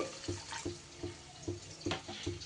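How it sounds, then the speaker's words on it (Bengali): Water is poured into a cooking pot of vegetables, dal and daliya, with a close, splashing flow and soft rhythmic pulses throughout. "এইবার আমি এখানে জল অ্যাড করে দিলাম"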